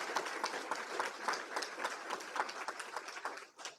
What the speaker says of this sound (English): I want to give them amazing, resounding hand of applause.